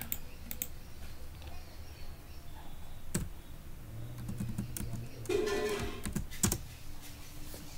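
Scattered keystrokes on a computer keyboard while typing a URL path during Laravel web development, with sparse, uneven clicks and a few sharper taps over a quiet room hum.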